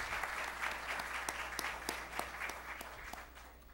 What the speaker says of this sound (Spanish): Recibamos con un fuerte aplauso al señor Antonio Mela.